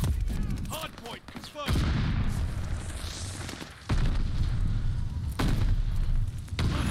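Rapid bursts of gunfire and heavy booms fill a Call of Duty: Vanguard multiplayer hardpoint battle, with dense overlapping shots, loud thumps and short gaps, while game announcer voice lines play over the combat.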